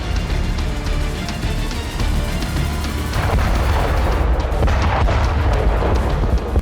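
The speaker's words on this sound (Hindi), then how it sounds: "बिल्डिंग में घुसने से पहले एक जोरदार धमाका होता है" A loud, heavy blast from a Ukrainian drone strike on Russian soldiers near a building, a deep rumbling boom that fills the clip with sustained low roar and debris-like crackle throughout, no speech.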